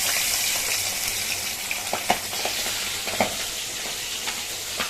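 Pabda fish frying in hot oil, a loud continuous sizzle with scattered sharper pops and spatters rising out of the hiss.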